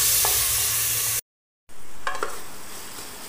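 Tomatoes for pav bhaji stirred in a hot pan, a steady loud sizzle and fry with a brief break, then spoon scrapes against the pan.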